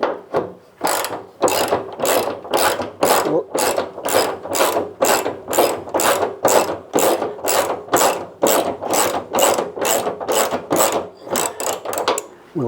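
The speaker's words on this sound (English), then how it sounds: "So now I'm just gonna tighten this up." A hand ratchet tightens the fuel tank straps on a 1971 Chevrolet Nova, giving steady, evenly spaced clicking strokes, about two per second, close and loud with no talk over them.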